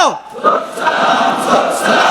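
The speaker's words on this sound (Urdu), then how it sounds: "اجلاس کے آخر میں لیویز فورس زندہ باد، بلوچستان لیویز فورس زندہ باد کے نعرے بلند کیے گئے" A crowd of Balochistan Levies Force officers and personnel at a meeting in a circuit house loudly chants slogans in unison, voices rising together and filling the space without pause.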